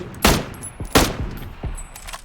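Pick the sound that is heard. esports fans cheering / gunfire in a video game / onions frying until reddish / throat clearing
gunfire in a video game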